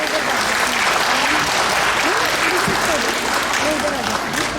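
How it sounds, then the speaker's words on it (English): Sustained audience applause at a Diwali festival mela, dense and steady throughout with a few voices faintly audible underneath. "Wow, a big round of applause for that."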